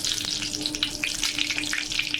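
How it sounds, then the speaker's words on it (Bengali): Pakoras frying in hot oil, a steady close crackling sizzle with occasional stirring, dense and continuous, with no talking. "ভাজা করে নেব"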